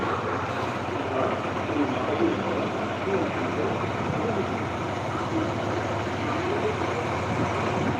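A vehicle driving fast on a road, heard from inside as a steady, loud rush of engine and road noise that never lets up, with voices talking over it throughout.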